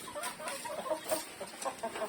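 Chickens clucking inside a chicken coop, a run of short repeated clucks at moderate distance, fairly faint, with no talk.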